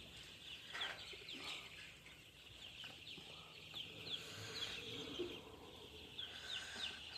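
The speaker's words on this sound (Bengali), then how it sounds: "কিছু মুরগি খাইতেছে, কিছু মুরগি ভয় পায়" Chicks and chickens clucking and chirping at a poultry feeder and waterer, with repeated high, thin peeps scattered over a quiet farmyard background and occasional fluttering, fairly faint.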